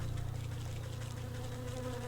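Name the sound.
hostile bees buzzing in the video game Wytchwood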